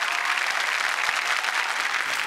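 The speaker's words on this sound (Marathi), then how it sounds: "जादूगारांसाठी जोरात टाळ्या पाहिजेत" A studio audience on a Marathi comedy TV show gives the magicians loud, dense applause. Steady clapping runs throughout and stays close and full, with no speech over it.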